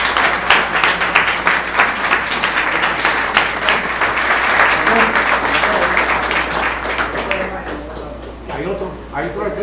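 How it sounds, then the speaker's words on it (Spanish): Students in a lecture hall at a school of political studies get sustained applause from the audience, dense steady clapping filling the room for most of the stretch before thinning out near the end. "quiero pedirles un aplauso porque ustedes son para mí el futuro"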